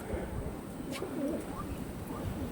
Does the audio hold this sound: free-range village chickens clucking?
no